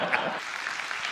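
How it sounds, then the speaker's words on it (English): Audience applause at a Conservative Party of Canada candidates' debate, a brief steady wash of clapping heard at moderate distance and fairly faint, with no one speaking over it. "You got to let them applaud that"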